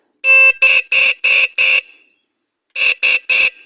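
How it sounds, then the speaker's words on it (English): A loud, blaring 12-volt truck horn fitted to an ebike honks in quick, clipped beeps: five in a row, a pause, then three more, close and harsh. "So I bought this horn, which is a truck horn or a 12-volt horn"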